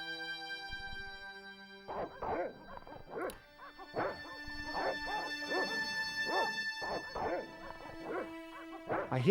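A small dog in the Broken Sword point-and-click game yaps and barks repeatedly in quick bursts over a steady sustained musical drone, starting after a short quiet lead-in and continuing to the end.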